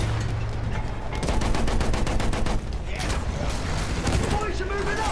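Battlefield 1 battlefield combat with dense, sustained gunfire, rapid machine-gun bursts and repeated shots running steadily throughout at loud, close range, layered with distant booms.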